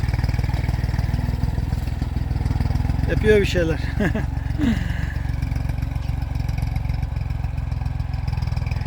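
A tractor engine runs steadily with a low, even droning hum. It stays constant throughout while a person briefly talks and laughs over it.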